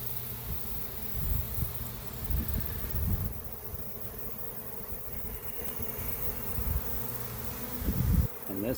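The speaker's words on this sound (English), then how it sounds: "And this is what a swarm looks like while it's happening." A honeybee swarm buzzes in and around a peach tree outdoors, a dense, continuous hum of many bees close to the microphone, rising and falling slightly, with faint wind in the background.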